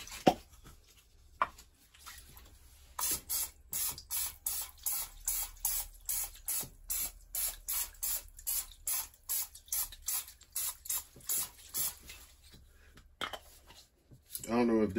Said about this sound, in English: I'm using non-stick cooking butter spray.